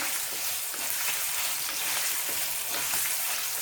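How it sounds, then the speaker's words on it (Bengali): Paneer sizzles steadily in hot oil in a kadai, a constant crackling hiss with occasional stirring, up close and without voices. "পনিরটা একটু হালকা ভাজা ভাজা হলে আমরা এটাকে কড়াই থেকে তুলে নেব"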